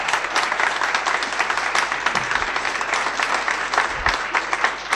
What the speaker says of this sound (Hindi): प्लीज जोर से तालियां और मुबारकबाद दीजिए।